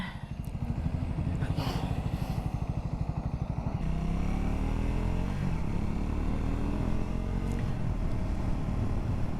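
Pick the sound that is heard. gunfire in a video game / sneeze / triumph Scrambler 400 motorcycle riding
triumph Scrambler 400 motorcycle riding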